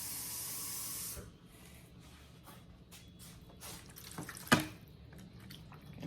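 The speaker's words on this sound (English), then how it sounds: "I'm gonna add about a half cup of water to this" About half a cup of water poured lightly over a slab of ribs seasoned with onion soup mix, a brief hissing spray at the start followed by faint trickling and a single thump, no talking.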